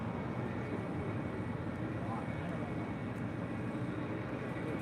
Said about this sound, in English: heading to Paris in the Dreamliner, also looking like a south side departure